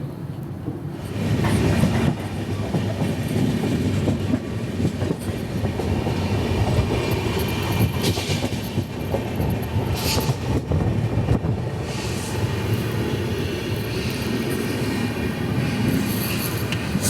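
The Garib Rath Express, number 12517 from Kolkata to Guwahati, runs at night with a continuous loud rumble and steady rattling of wheels on rails, heard from inside the coach with occasional faint squeals.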